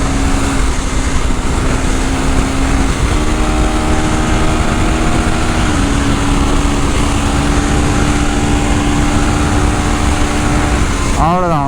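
A KTM 390 Enduro R motorcycle engine revs hard off-road, with traction control switched off. A loud, continuous drone rises and falls in pitch throughout and ends with a quick warbling shift.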